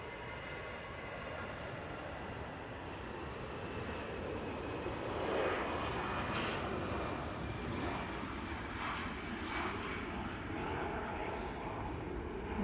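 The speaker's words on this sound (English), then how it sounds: "we also have this EasyJet, which you can hear going out" A broad, steady jet-engine roar from an EasyJet passenger jet departing Manchester Airport fills the air, heard from a distance at a constant level for the whole stretch, with no talking.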